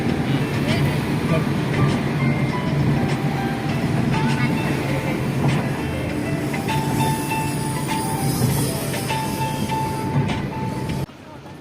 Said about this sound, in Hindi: ऊपर में मेट्रो ट्रेन चलते और नीचे में गाड़ी मोटर मन चलते।